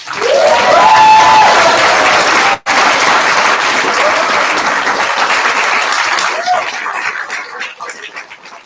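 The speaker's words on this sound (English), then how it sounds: "Giving a big applause again for the teams." An audience at a final presentations event applauds the teams, a loud dense burst of clapping with some whoops that cuts briefly, resumes, then gradually thins and fades toward the end.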